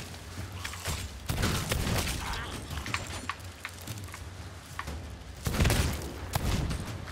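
Gunfire in the pirate video game Sea of Thieves, with several sharp bursts and scattered pops over rumbling game noise, louder blasts near the end, and players talking over the action.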